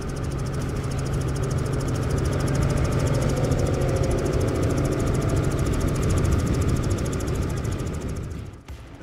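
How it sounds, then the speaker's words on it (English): Triple Mercury 300 outboard engines on a powerboat run with a steady, loud droning roar that holds unbroken for several seconds before dipping slightly at the end. "It's got triple Mercury 300 outboards. A great running boat."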